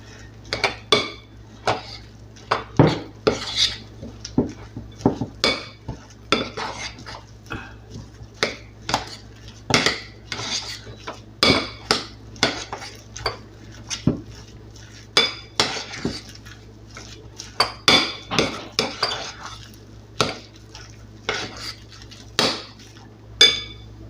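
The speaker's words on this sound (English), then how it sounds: "Just mix it all in, get all the big clumps of the Parmesan" Parmesan being mixed into calzone filling in a bowl, with repeated irregular clinks and scrapes of a utensil against the bowl, sharp and close, continuing steadily with brief pauses.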